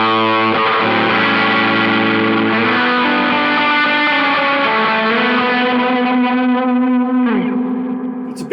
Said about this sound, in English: when you add the altitude back into the bright sound